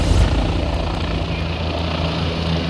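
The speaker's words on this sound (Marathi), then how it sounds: "धूर निघाल्याने हेलिकॉप्टर पुन्हा खाली उतरवण्यात आला" A helicopter that began emitting smoke after a technical fault comes down for an emergency landing, its engine and rotor making a loud, steady droning roar throughout with no one speaking.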